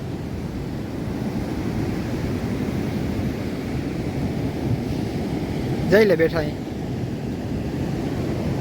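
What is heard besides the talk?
sea waves at the village shore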